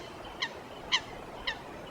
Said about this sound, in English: Geese glide together along the calm surface of the river.